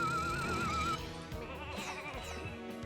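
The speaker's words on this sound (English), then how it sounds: "Alright, sheep in here." Sheep bleat in Ratchet and Clank: Going Commando, a wavering held cry standing out clearly over looping game music, followed by softer bleats mixed into the busy background.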